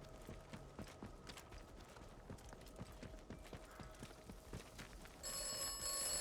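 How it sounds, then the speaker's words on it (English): A telephone rings in a horror video game, a faint repeated ringing over a quiet, ticking mechanical background, with a louder noisy ambience swelling near the end. "Oh, the phone. You got a phone call."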